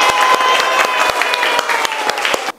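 Classroom applause for winning student groups at a prize announcement, a dense burst of many hands clapping close by for about two and a half seconds before it cuts off.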